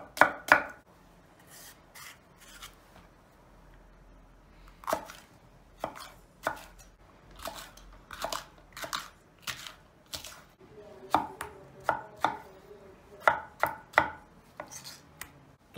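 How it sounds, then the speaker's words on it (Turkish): A knife chops onions on a cutting board in a home kitchen, giving sharp, close taps in irregular quick clusters separated by short pauses, with no talking. "Şimdi soğanı doğrayacağız."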